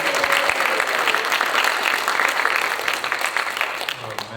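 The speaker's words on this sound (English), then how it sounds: "I will continue to do this until the audience applauds like crazy" An audience applauds with steady, dense clapping through nearly the whole stretch, easing off slightly at the very end.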